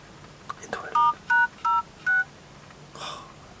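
A phone keypad beeps through a short code of star and hash keys, a few quick faint presses followed by four distinct, evenly spaced dual-tone beeps and a softer final tone, with no voices over them.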